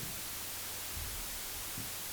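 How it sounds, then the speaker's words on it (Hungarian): Cassette tape playback of white noise, a steady, faint, even hiss across the whole clip with a low hum underneath and no other sounds. "Hallgassuk meg még egyszer a fehér zajt."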